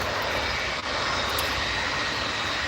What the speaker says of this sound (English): I promise you there's a Ryanair there waiting to take off.